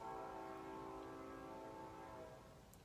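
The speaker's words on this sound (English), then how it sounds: "So... Goddamn train." A train passes right next to a home, its steady low rumble and droning tones filling the background at a faint, distant level without speech.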